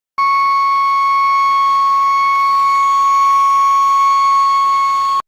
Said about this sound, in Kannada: ಸಂಜೆ 7 ಗಂಟೆಗೆ ಗ್ರಾಮದಲ್ಲಿ ಸೈರನ್ ಮೊಳಗ್ತಾ ಇದ್ದಂತೆ